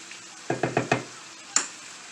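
Cajun shrimp hitting and being stirred in a hot pan: four quick rhythmic scraping stirs in a row, then one more a moment later, over a soft steady background sizzle.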